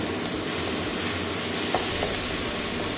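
Onion fries in leftover fish-frying oil with a steady, close sizzle, broken now and then by soft scrapes of stirring.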